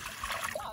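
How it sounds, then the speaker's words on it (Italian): Water poured into a container for homemade lemon iced tea, a brief trickling splash close by. "acqua"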